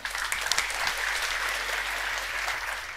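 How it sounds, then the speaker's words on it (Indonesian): Steady applause from a church congregation during a sermon, dense and continuous for the full stretch with no pauses. "Tepuk tangan."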